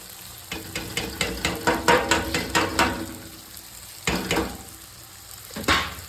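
Bursts of sizzling and crackling as masala of turmeric and cumin powder fries in hot oil for mutton curry, with rhythmic stirring scrapes in a quick series, then a few louder sizzles; no talking.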